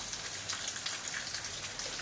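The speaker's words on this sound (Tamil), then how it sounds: "வெயிலும் நல்லா அடிக்குது, மழையும் எப்படி பெய்யுது பாருங்கள்" Steady rain pours during bright sunshine, a dense continuous patter and splash of drops on surfaces, even and close, with no voices.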